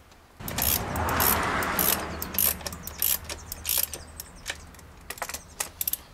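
Valve cover bolts being run down snug by hand with a ratchet on a 2003 BMW 525i, a quick series of clicking pawl bursts and metallic ticks, close and fairly loud, with no talking.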